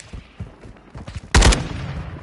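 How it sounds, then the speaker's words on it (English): Gunfire in a Modern Warfare video game, a few light shots and then one loud, close burst at the midpoint that trails off into rumble. "Somebody shooting them, but they can't even shoot."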